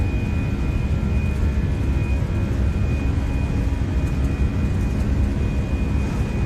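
Toliss A319 airliner engines spooling at takeoff thrust on the runway in X-Plane 12, a steady, loud, unbroken low roar with a faint constant whine above it, no voices.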